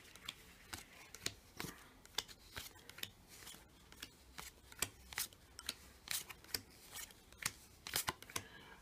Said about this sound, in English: I'm now going to hand out five punch cards to each of the players like so.